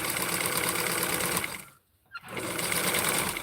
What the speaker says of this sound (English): So I'm going to sew it and then double fold it and sew this through.